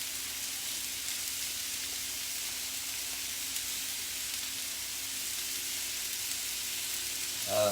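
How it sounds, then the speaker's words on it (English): Sausage browning in a pan with a steady, even sizzle and hiss that holds throughout, moderately close, with a brief clatter right at the end and no talking. "Maybe y'all can hear that sizzling."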